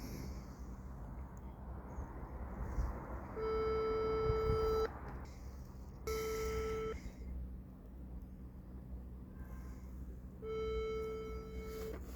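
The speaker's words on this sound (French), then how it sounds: "Oh, ça sonne." A telephone rings out while waiting for an answer, a few steady electronic tones in separated bursts, faint over low background hum.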